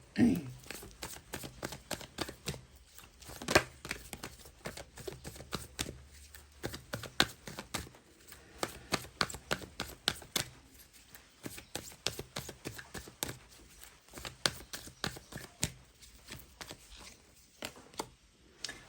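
A deck of tarot cards is shuffled and handled in a series of quick, crisp riffles and flicks that recur irregularly, close by and fairly quiet, with no talking.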